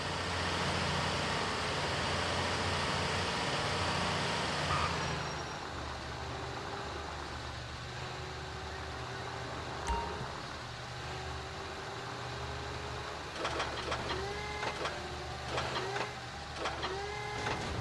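A heavy machinery vehicle at a port in GTA V gives off a steady engine rumble that shifts partway through, followed by a run of rhythmic mechanical clanks and tones near the end.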